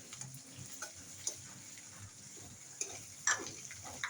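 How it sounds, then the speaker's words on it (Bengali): Shrimp malai curry cooking in a pan gives a soft, steady sizzle with light stirring ticks and a few sharp clinks, quiet and fairly close. "এখানে আপু চিংড়ি মাছ রান্না করছে।"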